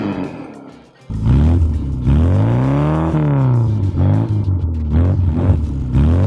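Mini Moke car engine revving hard and close, rising and falling in pitch across several throttle blips after a brief quiet start, loud and continuous with no talk.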